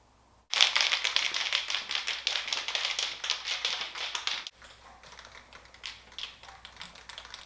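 A can of Rustoleum self-etching primer is shaken hard, a fast, dense rattling clatter up close for about four seconds, followed by quieter scattered knocks.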